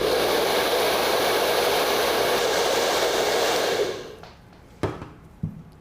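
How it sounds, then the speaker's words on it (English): A hair dryer blows on a special-effects makeup bald cap with a steady, loud whooshing roar, then switches off, leaving a couple of light clunks in the quiet. "I'm going to put a little bit of a hairdryer on to speed it"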